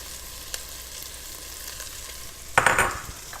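Leeks tipped into a pan for vegetable soup, a soft background sizzle that swells into a loud burst of hissing and clatter near the end as they land, close and without voices.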